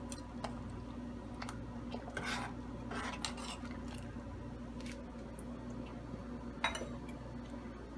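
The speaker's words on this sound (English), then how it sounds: "now I'm going to mix it everything together" Sev usal ingredients are mixed together in a pot, with quiet scraping, soft squishing and occasional light clinks of a spoon against metal, faint and unhurried.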